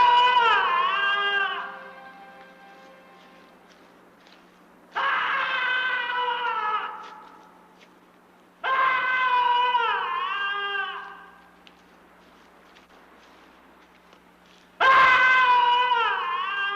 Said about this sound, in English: When provoked, the skull's angry screams reverberate for miles.